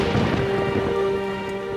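A stormy night with steady heavy rain and a low rumble of thunder, a dense continuous wash of sound under a faint sustained tone, with no voices.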